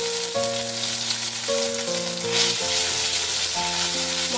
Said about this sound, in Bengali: মশলাটা একটু সাঁতলে নিচ্ছি